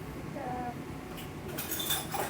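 Dry measuring cups clinking and rattling as they are grabbed in a home kitchen, a few faint metallic chinks late in the moment against quiet room noise.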